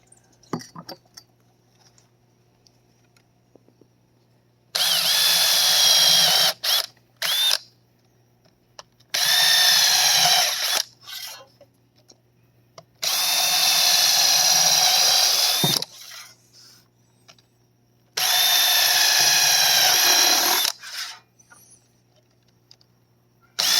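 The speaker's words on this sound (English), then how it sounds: "we'll just drill our 3 holes in our sails and get those ready" A handheld power drill bores holes in driftwood boat sails, four loud whining bursts of several seconds each separated by quiet pauses, with light clinks and handling noises between runs.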